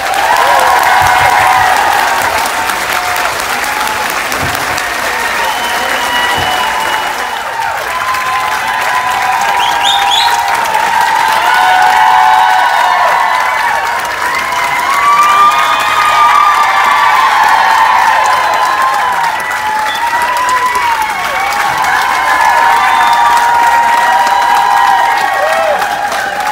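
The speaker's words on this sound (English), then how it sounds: "please give them a round of applause" Large crowd applauds and cheers at the opening day of a Little House on the Prairie 50th anniversary event in Simi Valley, loud sustained clapping with whoops and children's shouts throughout.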